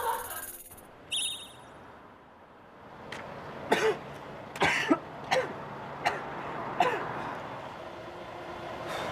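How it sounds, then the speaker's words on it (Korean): Someone coughs repeatedly in short harsh bursts, six or so spaced out over several seconds after a quiet start, with a brief high tone early on. "기침이 멈추질 않네."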